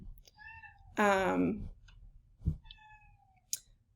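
A house cat lets out one loud, drawn-out meow, and faint clicks and small taps sound around it in a quiet room.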